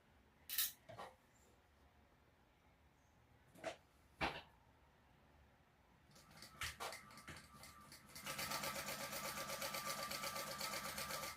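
A sewing machine top stitches along the edge of a fabric travel-pouch piece at a quarter-inch seam allowance: a few sharp clicks and knocks, then a steady, dense mechanical whirr that runs continuously to the end.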